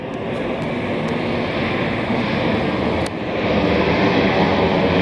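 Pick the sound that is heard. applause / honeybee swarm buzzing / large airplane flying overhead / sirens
large airplane flying overhead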